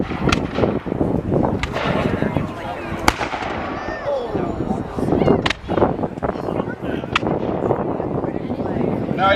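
Battle of Stoney Creek re-enactment cannon fire, with loud sharp booming blasts at irregular intervals over steady crowd noise and people talking nearby.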